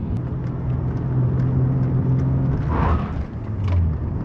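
A car being prepared for drifting, its power steering pump in need of replacement, runs with a steady low engine rumble and a faint whirring whine rising briefly midway, heard close up without speech.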